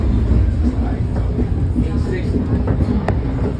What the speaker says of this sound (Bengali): ডাবল ডেকার ট্রেনে উঠেছি আমরা।